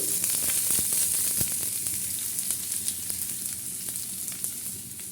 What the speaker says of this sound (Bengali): এখন দিয়ে দেবো রসুন কুচি তারপর দিয়ে দেবো পেঁয়াজ কুচি